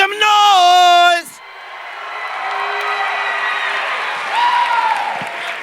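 Large crowd cheering and yelling at a leadership event, a loud sustained roar of voices and whoops filling the space after a brief shouted call, swelling again near the end.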